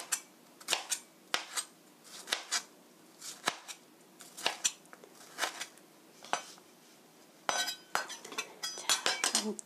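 A knife slices tomatoes thinly on a board, giving a series of sharp, close taps at an uneven rhythm, quickening into a rapid run of cuts near the end.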